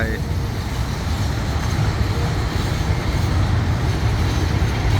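A freight train rumbles past nearby with a steady, broadband roar and clatter that holds loud throughout, with no pauses; a GEK 4024 locomotive is attached at the rear.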